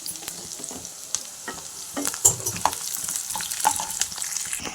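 Tempering spices and crushed shallots sizzle loudly in hot oil, stirred with repeated scraping clicks close up, with no voices.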